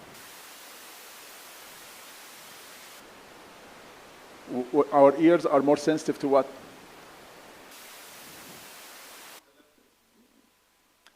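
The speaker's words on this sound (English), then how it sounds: "So the white noise has the same level from the lower frequencies to the high frequencies" Flat, hissing white noise plays steadily for an acoustics demonstration, stops while a man asks a short question, then resumes at the same level before cutting off into silence.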